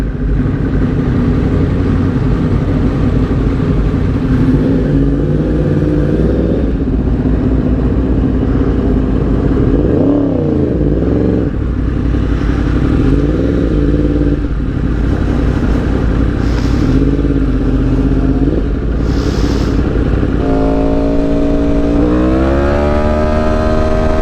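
A McLaren 720S supercar and a Yamaha R1 superbike drag racing on a highway, loud engines roaring and revving continuously with rising and falling pitch sweeps as they accelerate and shift, close and sustained throughout.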